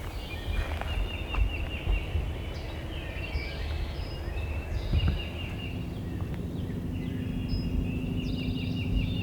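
Wild turkeys gobble in the Pennsylvania or West Virginia hills, faint and distant bursts rising over a low wind rumble. Several calls are spread across the stretch, with birdsong and other small sounds nearby.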